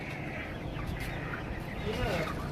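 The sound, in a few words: chickens clucking at a chicken farm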